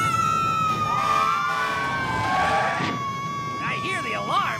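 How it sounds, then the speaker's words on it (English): A cartoon alarm siren wails in a long steady tone that slowly rises and falls, loud and continuous, while a character's voice chatters over the end. "I hear the alarm, but where's the fire?"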